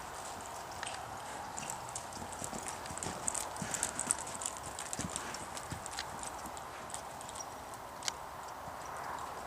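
A stiff horse moves laterally through a leg yield, its hooves clip-clopping in a quick, irregular rhythm at moderate distance over faint background noise.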